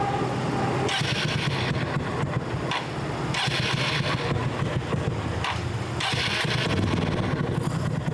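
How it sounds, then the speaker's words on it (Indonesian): A stock custom motorcycle engine idles and is revved in a few repeated bursts, a fairly quiet, mild exhaust note close by. "sekarang kita coba tes sound, tes suara motor ini."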